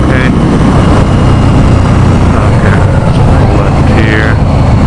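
Steady motorcycle engine drone from a 2016 Indian Scout cruising in fifth gear at about 65 mph, loud and continuous with heavy wind rush throughout.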